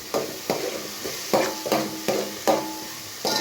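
Prawns cook with onion and tomato in a pan for a prawn kuzhambu, a close sizzle broken by regular scraping stirs, about one every half second, with no voices.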